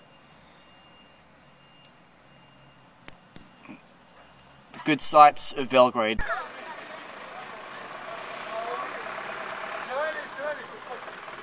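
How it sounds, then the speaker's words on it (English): A truck reverses into Kalemegdan Park in Belgrade, its backup beeps sounding in a short burst amid the outdoor murmur and engine noise, with a person speaking nearby just before the beeping. "Can you believe there's a truck that wants to come inside here?"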